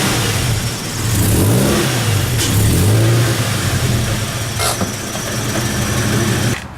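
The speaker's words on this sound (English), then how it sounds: "I'm going to have to actually run the car up on some blocks of wood to get it up high enough" A Toyota 86 engine revs up and down nearby as the car creeps onto wooden blocks, with a loud, steady mid-pitched drone that rises and falls through several throttle swells, and no talk.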